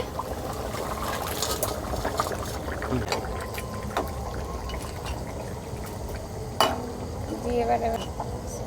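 Fried fish slides into a pot of simmering light Bengali curry with silver cup and kohlrabi, giving soft liquid bubbling and stirring clatter with a sharp knock near the end, close and quiet.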